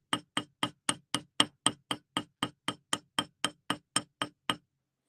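Steady hammer blows texture metal for ginkgo-leaf earrings, about sixteen sharp, evenly spaced strikes ringing close and loud with a bright metallic edge, then silence.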